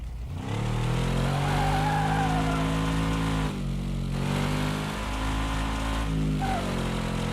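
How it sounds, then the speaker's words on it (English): A rough-sounding car engine revs hard in Car Mechanic Simulator 26, a loud continuous drone with rising and falling pitch swells and brief dips between revs, no talking. "This car sounds rough."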